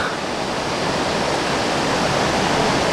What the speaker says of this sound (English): This is the Bald River waterfalls